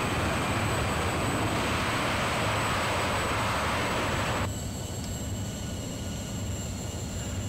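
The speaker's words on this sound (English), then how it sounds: "Reverse thrusters on, thank you. Wow, these work really well." An Airbus A380-841 in Lufthansa livery deploying reverse thrust on landing in a flight simulator game, a loud, broad roar that holds steady and then drops partly in level and brightness partway through.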